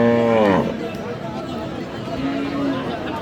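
A Sahiwal cow with its calf at a busy cattle market in Dinajpur lets out one loud, close moo that fades out, then a softer, shorter low call follows amid faint crowd murmur.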